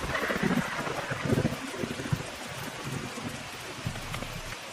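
Steady rain patters on a rainy day in an animated cartoon, a soft, continuous hiss of drops with occasional heavier splashes, fairly quiet and with no voices.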